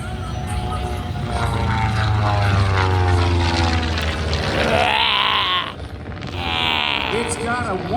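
A 180-horsepower propeller airplane flying at an air show, a loud droning engine that shifts pitch as it passes, then fades briefly and returns, with people talking over it.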